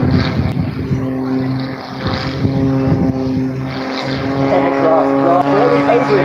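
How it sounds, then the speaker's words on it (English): A propeller-driven aerobatic display plane arrives at a seaside airshow with a loud, steady engine drone that wavers in pitch as it passes, with a commentator talking over it. "One-man arrival for the Rich Goodwin Mid-SQS"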